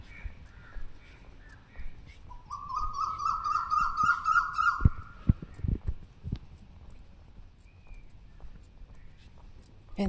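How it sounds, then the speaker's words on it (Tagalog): A bird gives a drawn-out call amid scattered chirps before dawn, fairly faint over quiet outdoor ambience with a few soft thumps. "Yung mga huni ng ibon."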